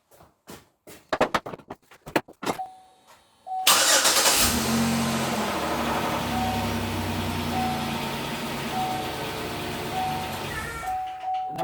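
A Chevrolet Equinox LT engine cranks after a few clicks and sharp taps, catches abruptly and settles into a steady, close idle that holds for several seconds with a faint high whine.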